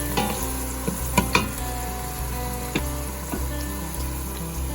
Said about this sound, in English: we'll add the onions to that. Get those sauteing.